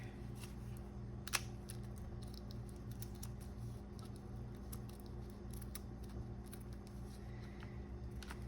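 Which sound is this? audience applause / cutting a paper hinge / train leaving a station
cutting a paper hinge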